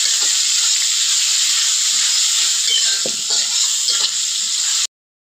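Garlic, onion and ginger fry in a hot pan with a loud, steady hissing sizzle that holds evenly, then cuts off abruptly just before the end.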